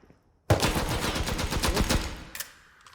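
A sustained loud burst of automatic gunfire in the survival game Rust starts abruptly, rattling continuously for about a second and a half before tapering off with a few trailing shots.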